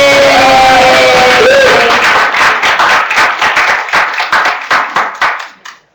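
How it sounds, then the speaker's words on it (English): An audience claps and cheers at a dissertation presentation, the applause starting full with whoops and voices, then settling into synchronized rhythmic clapping that speeds slightly before stopping abruptly. "We're clapping for the Castin clan"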